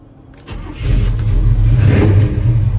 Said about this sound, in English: We're going to start up our 83 C10.